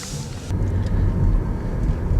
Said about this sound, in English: You can hear its little engine, it's so cute.